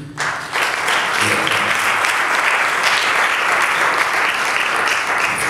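Loud, sustained applause from a crowd begins abruptly and holds steady, a dense wash of clapping with no pauses.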